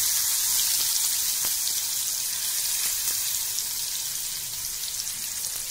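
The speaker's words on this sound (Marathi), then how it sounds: "कांदा छान परतू द्यायचा तेलामध्ये, लालसर होऊ द्यायचा छान." Finely chopped medium onion frying in oil with turmeric, a steady close sizzle with small crackling pops that slowly eases slightly over time, no talking.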